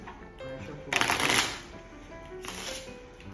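Playing cards being shuffled in a classroom presentation, one loud riffle burst about half a second long followed by a softer second shuffle, with quiet room noise between.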